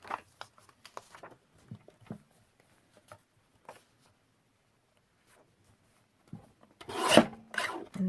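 Paper for planner pages being trimmed, soft scattered rasping and rubbing strokes at first, then a louder close scraping cut near the end, quiet otherwise.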